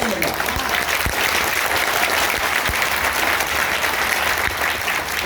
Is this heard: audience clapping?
yes